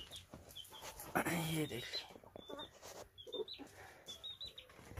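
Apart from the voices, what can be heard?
hens and a chick clucking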